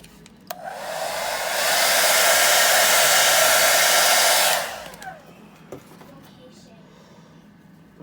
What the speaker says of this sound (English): Okay, so I'm going to do my blow dryer.